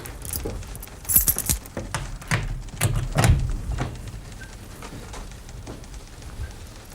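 A bunch of keys jangles indoors in several short, metallic rattling bursts with occasional thuds, fairly close, then fades into quiet room tone.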